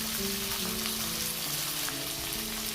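Green beans fried and gently stirred in a pan for a light fish curry, a dense close sizzle with a steady bubbling crackle filling the whole moment.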